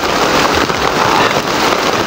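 Rain falls steadily in a dense, even patter, loud and close, with no breaks and no one talking.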